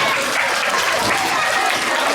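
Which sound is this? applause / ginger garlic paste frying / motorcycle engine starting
applause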